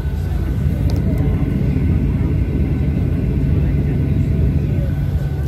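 Airplane at an airport producing a steady, loud low rumble of jet engines that persists throughout, a broad continuous roar heard from a distance without distinct changes.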